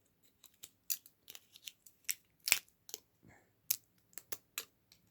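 Sharp clicks and crunches come close and clear as cutters bite into a laptop charger's wire: a series of irregular snips and squeezes with short pauses between them.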